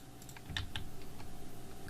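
A Ctrl-C keystroke on a Mac keyboard shows up as a couple of sharp close key clicks over quiet room hum, with a soft tapping rhythm continuing after them.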